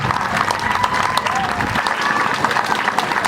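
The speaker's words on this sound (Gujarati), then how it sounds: "તાળીઓ ચાલુ રાખો" Audience at an Adivasi community ceremony honouring traditional midwives on World Tribal Day in Vyara, Tapi, keeps up dense, steady applause from many hands, loud and continuous, with some crowd voices mixed in.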